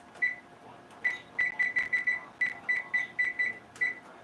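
A kitchen timer going off during breakfast cooking, a run of a dozen sharp electronic beeps, first spaced, then in a quick irregular series, close and fairly clear over a faint background.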